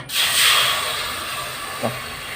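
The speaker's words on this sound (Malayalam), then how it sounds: "അതിലേക്ക് ഞാൻ ഇത്തിരി പാലൊഴിക്കണേ" A sharp, loud hiss as milk is poured into a hot pan of fried vermicelli, fading into a steady sizzle, followed by a small clink.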